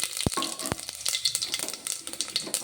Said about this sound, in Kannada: ನೋಡಿ, ಇವಾಗ ಈ ಮಸಾಲೆಯನ್ನು ನಾನು ಈ ಎಣ್ಣೆಗೆ ಹಾಕ್ಕೊಳ್ತಾ ಇದ್ದೀನಿ.